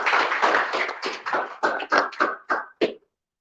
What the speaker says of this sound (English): So round of applause for Ali.